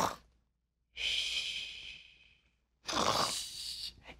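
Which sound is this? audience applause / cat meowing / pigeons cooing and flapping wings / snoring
snoring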